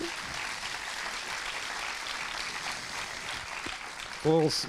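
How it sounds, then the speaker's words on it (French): An audience in a large screening hall applauds a film producer, a steady soft wash of clapping heard from a distance, with a brief tonal sound near the end. "Vous pouvez applaudir."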